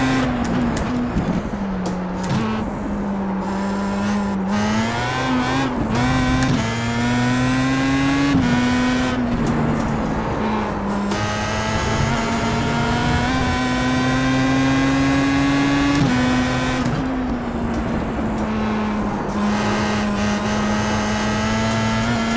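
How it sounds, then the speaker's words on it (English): A Pro Mazda race car's rotary engine screams around Brands Hatch, a loud, high, continuous wail that rises and dips as it shifts through the gears, with brief drops and lifts between runs of revs. "That rotary screaming is kind of more reminiscent of older F1 cars."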